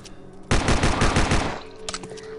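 Rapid gunfire from a Glock pistol in the Land of the Dead video game, a burst of about a dozen loud, close shots fired in quick succession over roughly a second, followed by a fainter trailing shot, with no talking.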